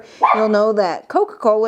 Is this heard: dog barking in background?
yes